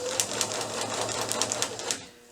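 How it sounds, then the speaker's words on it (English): A domestic sewing machine stitching through fabric and a paper foundation for a pieced quilt square, a steady rapid needle rattle with regular clicking pulses, close and fairly quiet, stopping abruptly near the end. "I have a needle down position on my machine, which I like to use while I'm sewing."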